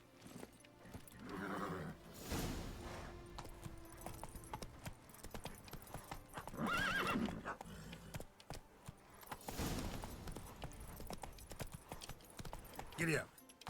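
Hooves of a ridden horse clip-clop steadily in a video game, the hoofbeats running throughout while someone talks over them and a horse whinnies.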